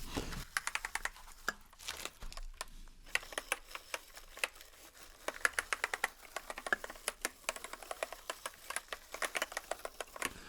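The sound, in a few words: clicky computer keyboard keys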